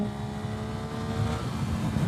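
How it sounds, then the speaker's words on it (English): A steady motorcycle engine drone with low rumbling hum and wind buffeting, constant and close, riding at highway speed. "see if it picks up the engine noise or anything"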